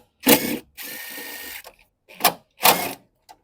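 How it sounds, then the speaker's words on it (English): A ratchet removes two 10 mm nuts holding the wiper arm on a Vauxhall Mokka, sounding as several close, sharp bursts of rapid clicking separated by short pauses. "need to remove this two 10 mil head nut"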